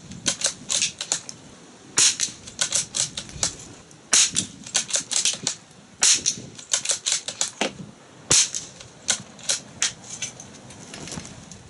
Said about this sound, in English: We're ready to shoot these 22 rounds.